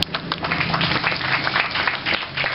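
Audience at a talk clapping continuously and loudly, a dense wash of many hands beating close by with no pause or voices.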